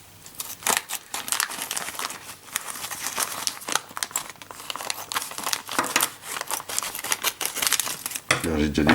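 Plastic packaging crinkling and tearing as 1/8 scale Eaglemoss Ecto-1 model kit parts are unwrapped, continuous close rustles and crackles with small clicks.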